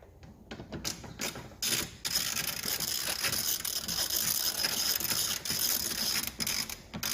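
Ratcheting clicks from a tool tightening a screw on the door handle of an Alfa Romeo MiTo, a dense run of mechanical ticks close to the mic with brief pauses, no talking.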